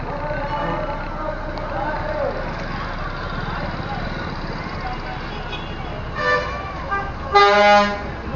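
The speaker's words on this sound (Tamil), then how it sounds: "இது வந்து மதுரை மதுரை போகிற வண்டி இது பழைய வண்டிங்க பழைய காலத்து வண்டி இது இன்னும் போயிட்டு இருக்கு" Old bus idling at Paramakudi bus stand in a busy station, with a steady engine rumble and the murmur of a crowd, then short horn toots near the end.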